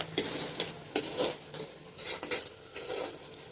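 A spoon stirs mixed vegetable gravy in a pan with a little oil, producing a quick, irregular series of scraping clinks against the metal over a faint sizzle, close up and without talk.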